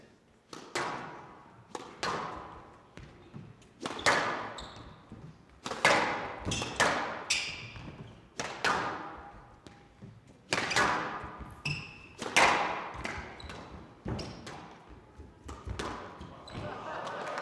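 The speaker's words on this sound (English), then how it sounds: "Amazing volley drop from Tarek Momen" Squash balls are struck hard during a professional men's quarter-final match at the Windy City Open. Sharp, echoing cracks and thuds come in an irregular rally rhythm, about a dozen close hits ringing in a court.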